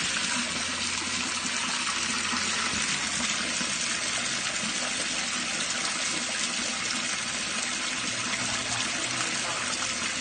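Water gushes and rushes steadily from a flushing toilet and running taps into a drain clogged by a fatberg of wet wipes and cooking grease, a loud broadband wash that continues throughout with no pause.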